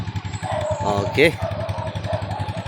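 Three motorcycles, each loaded with four sacks of sand, rev and pull away one after another on a rural road, engines close and rough with a rising whine, while a person speaks briefly.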